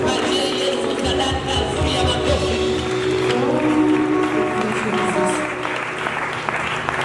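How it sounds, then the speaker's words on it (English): A church congregation claps loudly and continuously during a service, a dense wash of applause with some voices mixed in. "Give Jesus a very big clap."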